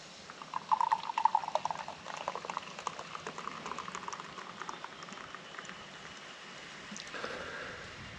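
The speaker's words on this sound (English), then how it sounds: "Let's pour it out and see what it looks like." A sugar-free soft drink poured into a glass fizzes, with a quiet splashing pour at first and then a soft, crackling patter of bubbles that slowly settles, faint and close, with no talk.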